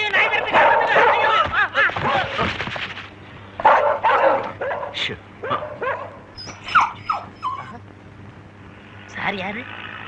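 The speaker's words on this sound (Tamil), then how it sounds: "ஐயோ ஐயோ நாய் விரட்டுங்க ஐயோ" A dog barks and yips in repeated bursts, close by, among frantic shouting voices.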